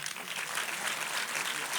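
A crowd applauds Martha at the FAWE Uganda Silver Jubilee fundraising dinner, with continuous even clapping filling the room, and a voice is faintly present beneath it.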